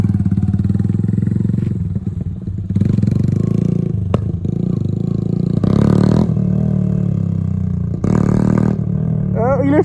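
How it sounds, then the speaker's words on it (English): A Yamaha 125cc motorcycle revs hard and roars loudly as its rider lifts a wheelie, the engine surging and dropping in bursts while people talk nearby. "This one's Luke trying to wheelie the bike, not me this time."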